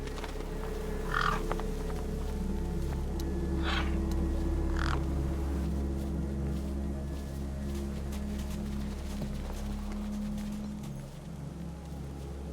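Three harsh crow caws ring out in the early seconds over a steady low ambient hum in the video game Beyond a Steel Sky, the calls fairly close and spaced apart, the drone continuing alone afterward.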